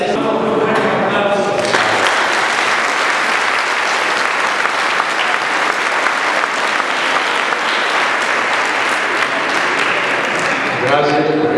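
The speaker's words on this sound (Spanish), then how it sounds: "Gracias por ese aplauso." Loud, long applause from a large crowd at a parish conference hall, thick continuous clapping lasting over ten seconds, with a voice briefly audible at the start and again as it ends.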